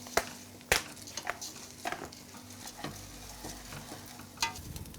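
Pasta coated in fat and turmeric is stirred in a pot for risotto-style pasta, giving scattered scraping clicks and soft scrapes over a faint sizzle, close and moderately quiet with no talking.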